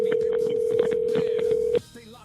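Telephone keypad dialing tones on a police department phone, a rapid run of short beeps over a steady tone close up, cutting off abruptly into quieter line hiss.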